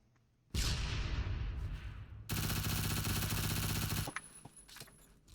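A gun in Roblox Phantom Forces fires in two loud sustained bursts of rapid automatic fire, close and sharp, separated by a brief pause and trailing off into scattered clicks.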